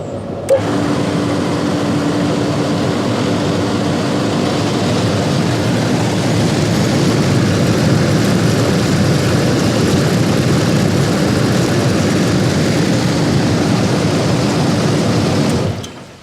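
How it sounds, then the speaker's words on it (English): A hot tub pump running again after its seals were replaced, a loud, steady low hum with a constant drone that continues unchanged for about fifteen seconds, with no voices. "So the pump's all back in the hot tub now. It's all okay, there's no leaks, the pump is running."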